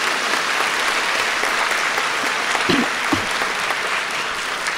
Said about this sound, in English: give a very warm applause to our volunteers